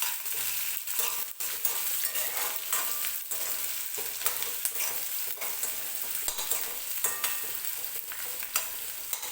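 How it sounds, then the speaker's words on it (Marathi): Curry leaves, green chillies and onion frying in oil for a potato bhaji, a dense steady sizzle with rhythmic spoon stirring and scraping close by. "कढीपत्त्याची पानं आणि हिरवी मिरची सुद्धा टाकून घेते, म्हणजे छान सगळं एकत्रच तेलामध्ये भाजलं जाईल."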